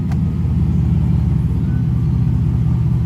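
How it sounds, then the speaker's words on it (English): A Mercedes SL600 with a freshly rebuilt transmission and new reverse clutches idles in reverse, giving a steady, close, low engine rumble with no revving. "Reverse is engaged. Very smooth engagement, very nice."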